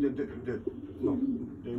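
Belgian racing pigeons give a short, low, throaty coo close by while a person speaks at the same time.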